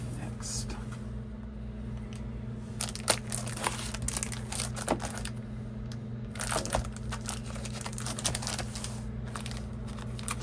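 Resealable plastic case around a vinyl record being handled, with soft crinkling and crackling bursts over a steady low hum, fairly quiet and close.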